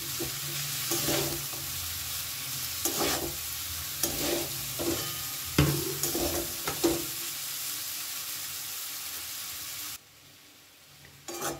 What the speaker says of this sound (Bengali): সবকিছু কিছু চাউমিনটার সাথে খুব সুন্দর করে মিশিয়ে একটু ভাজা ভাজা মতো করে নিচ্ছি